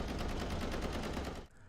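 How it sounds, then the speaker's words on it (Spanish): Rapid machine-gun bursts from a shooter video game played at full volume, a dense continuous rattle that cuts off abruptly near the end. "Se notaba que estaba jugando un juego de disparos a todo volumen."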